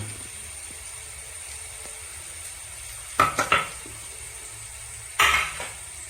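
Spices being mixed into chicken in a pot: two short bursts of metal spoon scraping against the pot, close, over an otherwise quiet kitchen background.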